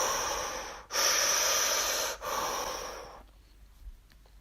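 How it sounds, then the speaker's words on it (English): Continuous mouth breathing during a yoga practice, a steady rushing airflow through the open mouth with two brief gaps between breaths, close and fairly loud, then trailing off into quiet. "How this works is it's a circular breath, breathing into the belly and the chest through the mouth."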